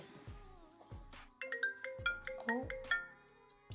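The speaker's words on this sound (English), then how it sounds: "I've got a phone call" A phone ringtone for an incoming call plays a repeating melodic pattern of bright tones, fairly close and loud, in a makeup salon setting, with speech overlapping at the start.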